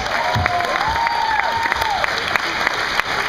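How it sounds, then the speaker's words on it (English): Steady applause from a crowd at an island dance show at a beach resort fills the clip, dense clapping throughout with a faint tonal whistle-like sound drifting in the background. "let's give them another round of applause"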